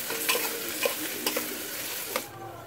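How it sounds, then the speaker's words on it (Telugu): Onions frying in hot oil in a pressure cooker for a Telangana-style mutton curry, a constant sizzle with a few clicking stirs of the spoon, then going quiet near the end. "ఉల్లిపాయల్ని బాగా వేగనివ్వాలి"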